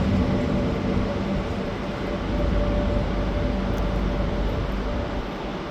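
A train at Lisbon Oriente station rumbles steadily nearby, a continuous low mechanical drone with a faint tonal hum, loud and unbroken for several seconds with no talk.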